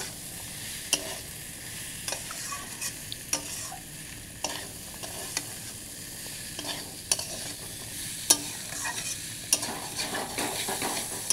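Food frying in a pan is stirred and mixed, a constant loud sizzle punctuated by repeated scraping and clicking strokes of a utensil against the pan.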